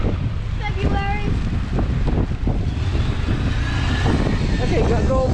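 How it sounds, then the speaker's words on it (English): Strong wind buffets the microphone during a New York City snowstorm in 2021, a constant loud roar throughout with people talking over it. "I know it's so windy"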